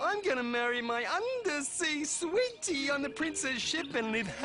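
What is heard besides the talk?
No everyday noise stands out behind the speech.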